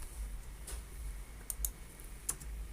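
Keys on a computer keyboard are pressed for a shortcut: a few quiet, sparse clicks over a faint low hum, with no voice.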